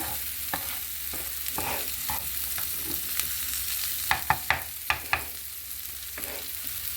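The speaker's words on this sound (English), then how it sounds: "Give this one a good mix again." A utensil scrapes and stirs sausage in a frying pan over a soft sizzle, with several sharp knocks against the pan near the end, close and without speech.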